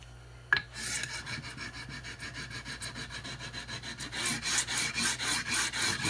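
Sanding block rocked back and forth over guitar or bass frets to level them, a rhythmic rasping scrape repeating about every third of a second, close and growing slightly louder, after a brief knock at the start.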